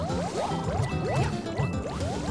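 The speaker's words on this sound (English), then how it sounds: "Look at how I'm running in the water." Game character splashing and running through water in New Super Mario Bros U Deluxe, continuous bubbly, gurgling liquid sounds with quick sweeping chirps layered over busy game audio.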